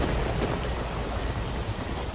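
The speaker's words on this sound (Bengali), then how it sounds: "বৃষ্টি পড়তে শুরু করলো টিপটিপ করে। তারপর ঝমঝম আকাশ যেন জ্বলে উঠল বিদ্যুতে।" Heavy rain and thunder play in a Bengali horror cartoon set on a village night. A dense, steady downpour roars throughout over a low, rumbling undertone, with no voices.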